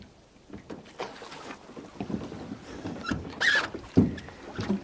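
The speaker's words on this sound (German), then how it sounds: "Und hier muss man natürlich paddeln" Paddle strokes dip and splash beside a small aluminium boat on open water, irregular knocks and water sloshing close by under light wind.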